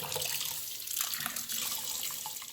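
Cold water runs from a tap into a pot of menudo tripe being rinsed, a steady close splashing rush with no talk.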